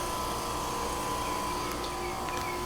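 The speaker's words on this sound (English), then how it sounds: "My bandsaw." A bandsaw cuts a 3/8 inch piece of sheet acrylic, giving a steady, loud, continuous whine and buzz with a sustained tone, running alone throughout without any talking.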